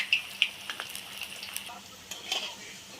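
Potato snacks frying in hot oil give off a soft, steady sizzle dotted with small pops and crackles, faint and close, with no one talking.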